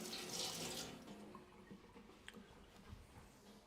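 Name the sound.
rinsing a teaspoon under a running tap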